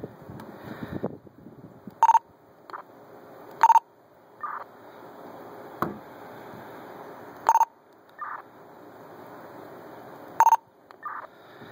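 Motorola HT1000 handheld radio sends TPT hack tone signaling: several short, sharp beeping tone bursts spread across a quiet background hiss, each followed by a brief fainter chirp.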